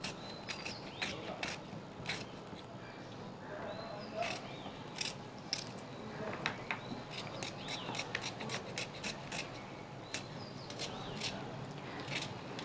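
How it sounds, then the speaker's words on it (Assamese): A knife cuts watermelon rind into small pieces, giving a steady series of crisp, close chopping and scraping strokes over a soft background hiss, with no talk. "সৰু সৰুকৈ কাটি ল'ম"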